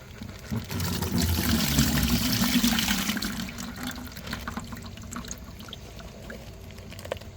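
Water pours out of a bag through a net in a steady gush that swells for a few seconds, then thins to a lighter trickle and dribble before fading.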